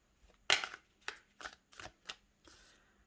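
Tarot cards are shuffled in a series of crisp, riffling bursts, one sharp and loud followed by several quicker, softer flutters at close range, with no talk.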